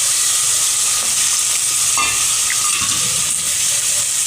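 Potatoes dropped into a pan with asafoetida over low gas heat give a steady broadband sizzle throughout, with a brief clatter near the middle as they land.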